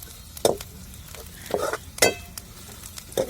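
Grated coconut with onions sautéing in a pan for village-style puri bhaji, a soft sizzle under a few distinct scraping stirs of a spoon against the pan, close and fairly quiet, with no one talking.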